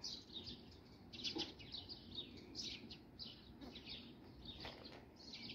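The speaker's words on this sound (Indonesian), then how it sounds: "banyak sekali burung-burungnya yang bermain di situ" Birds chirping and calling among trees on a mountainside, a scatter of high, light tweets repeating irregularly over a steady outdoor background, fairly distant, with no talk.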